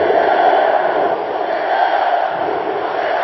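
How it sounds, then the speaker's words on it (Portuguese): A dense, roaring stadium crowd of Atlético Paranaense fans cheers steadily in the arena at a 2009 Brasileirão match against São Paulo, a loud, continuous wash of voices. "A inflamada torcida do Atlético comemora na arena."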